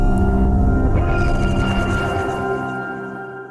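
A heavy, distorted impact with a dense, gritty low-end rumble and buzzing tonal layers, loud at first and slowly fading over a few seconds.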